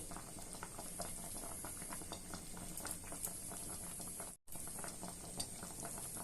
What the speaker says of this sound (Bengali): আর একটু টানাবো, তাই জন্য আর একটু কিছুক্ষণ ফোটাবো